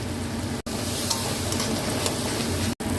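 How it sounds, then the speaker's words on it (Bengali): Chopped tomato with chilli powder, turmeric and cumin powder frying in a pan, a loud, close, constant sizzle with stirring, cut by two very brief gaps. "এই টমেটোর কুচোটা দিয়ে দিলাম। এই গুঁড়ো লঙ্কাটা দিয়ে দিলাম, একটু হলুদ দিয়ে দিলাম"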